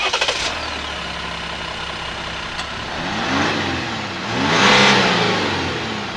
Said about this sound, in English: like it's not super fast, but it's got that cool diesel sound.